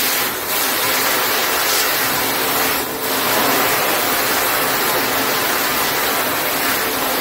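A loud, steady rush of water pours from an opened tap without pause for several seconds, a broad continuous splashing with no voices.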